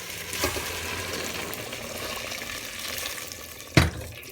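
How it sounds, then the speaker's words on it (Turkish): Hot water poured into a pot of soaked dried beans, a continuous splashing, hissing pour across the whole stretch, with a sharp clunk near the end. "Şimdi sıcak suyunu ilave ediyorum."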